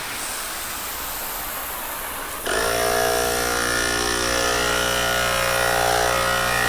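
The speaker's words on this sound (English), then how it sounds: "Compressor's kicking on here." An air compressor at an auto detailing trade show demonstration starts up abruptly partway through, shifting from a soft background hiss to a loud, steady motor drone with strong humming tones that runs on without a break.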